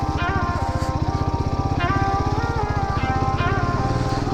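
A Yezdi motorcycle engine throbbing at a steady, loud pace while riding through fog on the Mandalpatti road near Madikeri, with a few rising whines as the revs climb, close to the rider and without talk.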